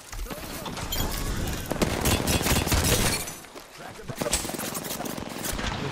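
R9 gun firing in the video game Apex Legends, rapid bursts of gunfire coming close and loud with a short gap, mixed with other battle noise.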